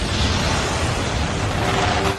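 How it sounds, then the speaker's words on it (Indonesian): A sustained, roaring blast rumbles loudly throughout, broad and thunderous like a large explosion, with no speech. "seketika terjadilah ledakan besar"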